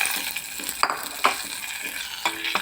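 Fenugreek, cumin, dried red chillies, curry leaves and crushed garlic crackle in hot oil for tempering an amaranth greens mash, a continuous close sizzle broken by several sharp stirring clinks and scrapes.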